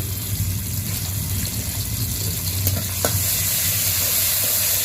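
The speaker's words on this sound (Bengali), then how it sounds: "এই যে রসুনটাকে আমি একটু করে নিই, ভাজা ভাজা করে নিই।" Garlic fries in hot mustard oil in a wok, a constant close sizzle with occasional light stirring clicks and no voices.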